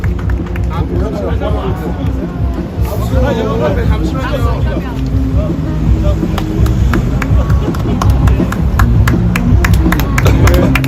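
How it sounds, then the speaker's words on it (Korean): A crowd at a presidential campaign signing event claps over a bed of babble and street traffic, with scattered claps growing denser toward the end while voices carry on. "큰 박수 부탁드리겠습니다"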